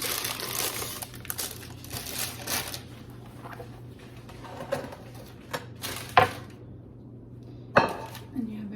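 A baked round sourdough loaf is lifted from its pan, with rustling, crinkling parchment paper in bursts up close and scattered knocks and brushes of the crust and pan between quieter gaps.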